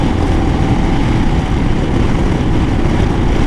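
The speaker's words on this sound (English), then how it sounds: "And rolling the throttle on, and it's up a slight grade and off it goes" A Royal Enfield Himalayan motorcycle accelerates up a slight grade with a loud, steady, rumbling engine roar that fills the whole stretch. Heavy wind buffeting runs under the engine noise.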